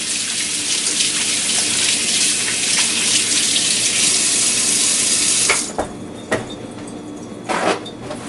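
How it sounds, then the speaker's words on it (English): A kitchen tap runs steadily and loudly while hands are washed under it, then the water cuts off and a few faint clicks and knocks follow. "I'll give my hands a quick wash"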